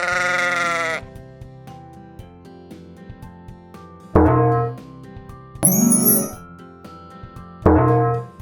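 A sheep bleats three times with long pauses between, each bleat loud and near; a bright bell-like chime rings once between the later bleats, in a children's animal puzzle game.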